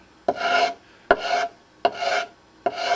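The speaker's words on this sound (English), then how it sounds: "arced motion sand away the part of the butterfly that's proud" Sanding works down the raised part of a wooden butterfly inlay in four even, rasping strokes, each starting with a sharp scrape. The strokes are close and regular, with no talking.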